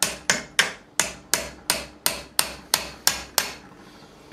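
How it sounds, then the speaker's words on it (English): A fretting hammer taps a guitar fret on a custom electric guitar during a refret, giving about eleven sharp, evenly spaced knocks at a steady rhythm, close and crisp, with a short ring after each hit. "let's just give it a little tap with a fretting hammer."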